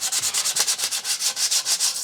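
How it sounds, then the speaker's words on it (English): Rough sanding of a scratch-built RC plane canopy: quick, even back-and-forth rasping strokes, about seven per second, close and continuous with no talking. "it only takes a minute or two of just rough sanding to get these"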